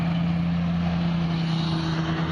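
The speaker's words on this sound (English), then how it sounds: "Sorry about the traffic, guys" Street traffic passes by near a sidewalk, a steady low engine drone with a constant hum running throughout, no voices over it.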